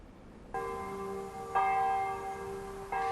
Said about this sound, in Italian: Suona la campana della parrocchiale di Pezzan